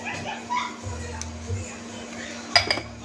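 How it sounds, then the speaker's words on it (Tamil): Dishes, pots and pans clink and clatter faintly during washing, with scattered metallic knocks and a louder clink near the end over low background noise. "பாத்திரம் நிறைய இருக்குது கழுவணும்"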